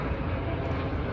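A helicopter flying over Seattle gives a steady, loud, broadband engine and rotor roar that stays constant through the brief moment with no talk.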